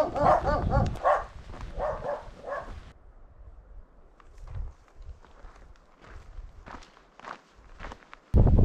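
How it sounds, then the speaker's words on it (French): Dogs bark in a quick volley of sharp barks in the village of Les Combettes on Mont Lozère, then footsteps crunch along steadily while a few faint sounds carry from the distance. "les chiens font peur"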